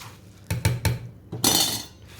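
Puffed rice (murmura) tossed and stirred into bhel puri paste in a metal bowl, giving a few sharp clinking strikes followed by a brief crisp rustling scrape, close and fairly loud, with no talking.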